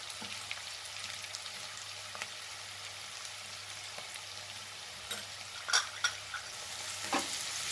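Mushrooms fry in a pan toward golden brown, with a soft, quiet sizzle and occasional scraping stir strokes growing busier near the end, no voices present.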